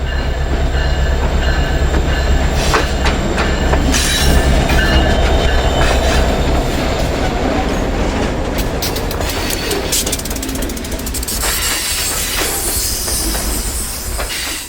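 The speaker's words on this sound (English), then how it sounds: "The second unit on this train is the Indiana and Ohio SD40T-2." A freight train with an Indiana and Ohio SD40T-2 tunnel motor locomotive, built for Southern Pacific in 1978, rolls past on the Norfolk Southern Dayton District: a loud, steady rumble of cars with wheel clatter and occasional squeal.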